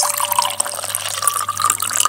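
Water splashes and trickles into a glass at home, a bright gurgling pour with small drips and spatters, close and fairly loud, running unevenly for about two seconds with no voices.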